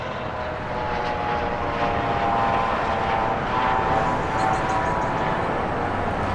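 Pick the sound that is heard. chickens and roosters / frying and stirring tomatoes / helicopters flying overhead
helicopters flying overhead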